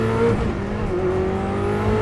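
A Koenigsegg Chimera with a 1600bhp engine and manual gearbox gets quick throttle blips, a close, loud engine note surging sharply and then dropping back, with a steady tonal drone running through the short burst.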